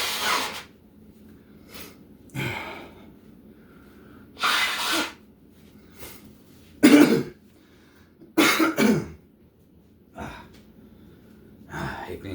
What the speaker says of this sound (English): Let me, a little embarrassingly, blow my nose real quick.